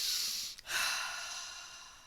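A single close, soft exhalation through the nose, a brief airy huff with a short pause, then a long steady breathy hiss that slowly fades, with no talking.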